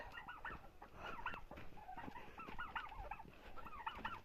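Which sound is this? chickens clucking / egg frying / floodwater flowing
chickens clucking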